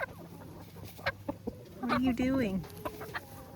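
Soft clucks from a farm hen come in short bursts and one drawn-out call, while a person speaks to it nearby.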